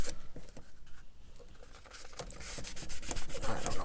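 Close rubbing and scrubbing as the fret guard of a Gretsch G2420 guitar is polished, a soft rapid patter of strokes that grows louder and busier toward the end, with no talk.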